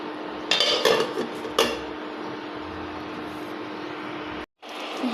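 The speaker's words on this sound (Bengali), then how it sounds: "এখন আমি দিয়ে দিব ঢাকনা।" A lid goes onto a cooking pot of egg and potato curry with a couple of close metallic clanks, then a quiet steady background hum follows. No one talks.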